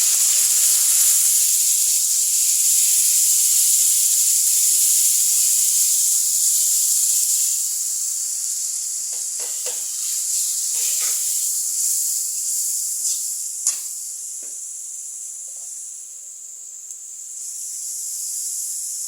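Onion and garlic paste sizzles in a pan with turmeric, coriander and chili for a dried mola and kachki fish vegetable dish: a steady bright hiss that softens midway, with a few faint clinks and stirring sounds, no talking.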